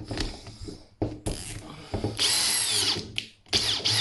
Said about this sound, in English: it tries to whip the drill round.